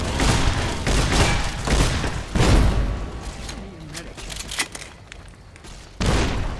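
Grenade explosions in Fallout: New Vegas during the battle for Hoover Dam, with heavy booms and gunfire bursting repeatedly through a loud, dense combat din.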